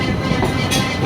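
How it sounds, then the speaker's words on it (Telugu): Bhavnagar superfast intercity train runs slowly between Rajahmundry and Kakinada, heard from inside a first-class coach as a loud continuous rumble and rattle of wheels on rails. "ఈ ట్రైన్ ఎందుకో చాలా స్లో ఉంది"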